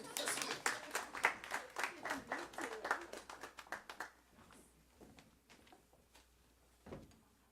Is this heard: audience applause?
yes